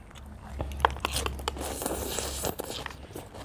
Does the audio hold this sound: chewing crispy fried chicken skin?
yes